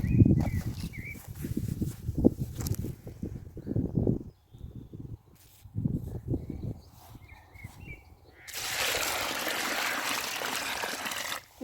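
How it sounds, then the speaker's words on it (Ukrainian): Water is poured into a bucket outdoors beside a pond while planting a young cherry tree. Scattered thumps and shuffling come first, then a steady rushing pour fills the last few seconds, fairly close, with no talking. "Відразу наливаю відро води."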